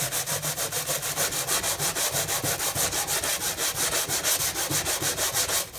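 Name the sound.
rubbing chrome motorcycle fender with aluminum foil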